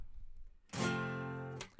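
A single strummed F barre chord rings out on guitar, close and fairly quiet, with a bright attack after a short pause of faint room noise and a sustained, slowly fading tone.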